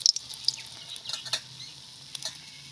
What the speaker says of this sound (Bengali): পাপড়িগুলো এরকম একটু লাল লাল করে ভাজবো